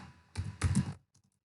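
A short burst of computer keyboard typing, two quick clusters of clattering keystrokes close by, then a brief pause and a couple of faint final taps, with no one talking.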